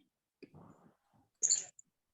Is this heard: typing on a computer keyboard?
yes